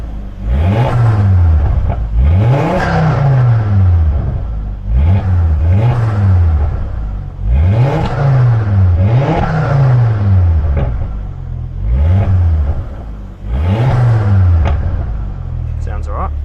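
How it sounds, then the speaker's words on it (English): A Ford Focus MK2 ST turbo engine revs up and falls back repeatedly in a steady series of loud, close blips, just after starting and following an Airtec inlet plenum install. "I guess I'll give it a few revs, make sure it's running"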